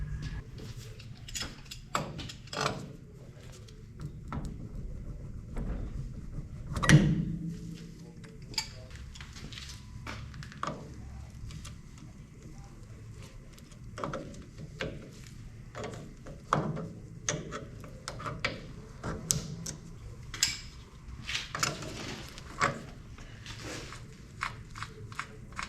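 Quiet, scattered ratchet clicks and metallic ticks come from work removing the hub and backing plate on a '57 Chevy during a brake upgrade, with one sharper clunk near the start.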